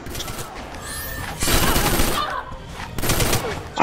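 A character's gun ability fires in the fighting game Injustice, producing a burst of rapid gunfire in the middle of the clip, followed by a second shorter volley, over quieter game sounds.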